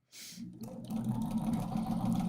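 Home sewing machine stitching nine-patch quilt strips, starting after a brief rustle and settling into a fast, even mechanical whir close by.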